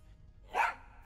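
A single short dog bark rings out once, clear and mid-loud, over a faint low background hum in the Tales of Monkey Island video game.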